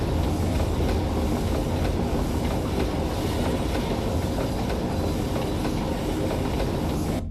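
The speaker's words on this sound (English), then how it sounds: "Why'd the train stop?" A train in the video game Garten of Banban 8 rolls along the rails with a loud, continuous rumble and steady clickety-clack that stays dense throughout and eases slightly at the end.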